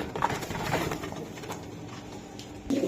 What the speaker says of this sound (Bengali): দেখেন কবুতর দেখা